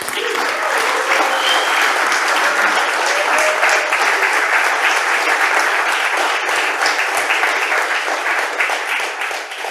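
An audience applauding after a talk at a Houdini user group meetup in Hamburg, sustained dense clapping from a full room that holds steady for about ten seconds before starting to thin at the end.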